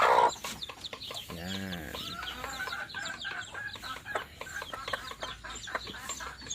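Black hens and chicks on a farm give short, repeated clucks in an irregular rhythm, with a louder call partway through, over steady background noise.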